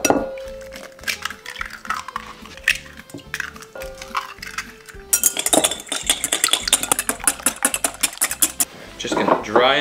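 A whisk beats egg wash seasoned with garlic powder, onion powder, black pepper and salt in a bowl, making quick metallic clinks against the sides that become denser and faster about halfway through.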